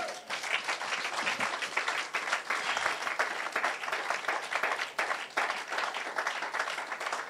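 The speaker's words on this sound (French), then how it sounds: "Acclame Jésus" Church congregation applauding loudly and continuously, a dense wash of clapping from a large crowd filling the room, with faint voices mixed in.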